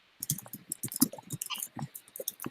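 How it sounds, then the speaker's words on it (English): Rapid, irregular clicking of keys on a computer keyboard, close and fairly soft, continuing steadily with short pauses throughout. "I hear Natalia's typing."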